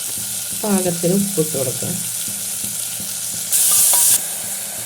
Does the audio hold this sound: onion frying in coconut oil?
yes